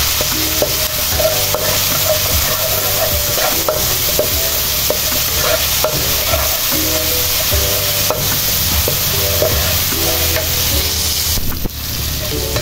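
Oil sizzles steadily in a pan while seblak noodles with egg are prepared, a continuous bright crackle with occasional stirring scrapes and clinks, close and loud throughout with no voices.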